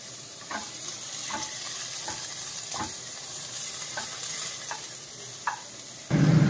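Onions sizzle steadily in a pan for moong dal paratha while a spatula stirs them, giving soft regular scraping strokes about every second over the constant frying hiss. A louder clatter comes at the very end, with no talking.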